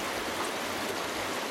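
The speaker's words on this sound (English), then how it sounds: "Harold and Helen go down and have a look at the creek and see what's happening" Water in a swollen creek on Hinchinbrook Island in North Queensland rushes steadily, giving a broad, even hiss with no breaks or voices.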